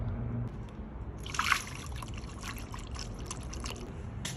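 Prestone coolant trickles and pours into a Honda CBR600F4i motorcycle, a faint continuous liquid dribble with a brief louder splash partway through.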